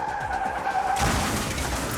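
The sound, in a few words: car skidding as driver loses control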